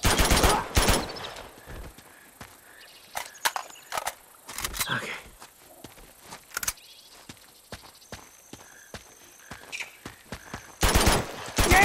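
Sharp gunshots from an Uncharted 2: Among Thieves firefight ring out as scattered single cracks and short volleys at varying distances, with louder bursts at the start and end over a quiet background.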